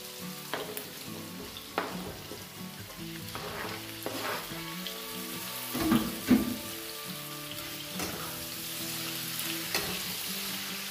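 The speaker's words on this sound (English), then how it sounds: "Go in with the cauliflower and our broccoli now." Chicken stir-frying with cauliflower and broccoli, a crackling hiss of hot oil broken by repeated scraping strokes of a spatula against the pan, fairly close and without talk.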